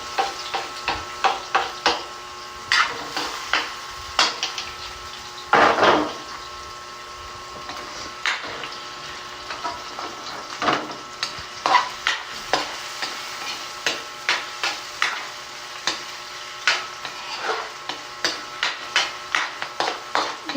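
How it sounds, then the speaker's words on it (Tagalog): Ginger and aromatics sautéing in a pan for chicken tinola, with repeated spatula scrapes and stirring clicks over a steady light sizzle, fairly close and continuous with no talk. "Gisa-gisa lang. Gisa-gisa."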